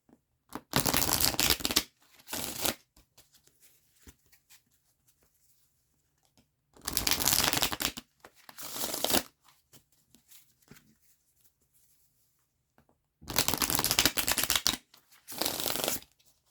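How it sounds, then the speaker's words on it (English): Three separate bursts of riffle-shuffling tarot cards, each a quick rapid flutter followed by a shorter second riffle, with quiet pauses between. "let me shuffle these decks up real quick"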